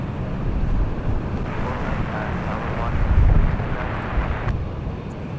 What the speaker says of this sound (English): So they are now departing runway 24 left.